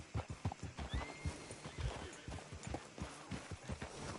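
A horse in the video game Red Dead Redemption 2 clip-clops with steady hoofbeats and gives a whinny, fairly close and moderately loud against game ambience.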